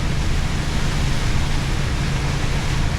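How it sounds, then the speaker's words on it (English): Heavy rain pours over a car moving along a road, giving a steady, dense wash of noise with a low rumble from the road, unbroken and close throughout. "It isn't half raining now"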